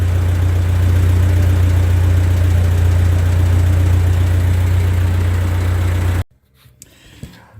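A 1945 Ford 2N tractor engine idles with a loud, steady low rumble close by, then cuts out abruptly near the end, leaving faint handling noises.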